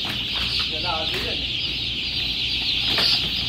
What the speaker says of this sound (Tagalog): Nagtatapon sila ng sisiw.